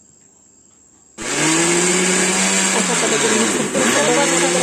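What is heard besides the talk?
mixer grinder grinding semolina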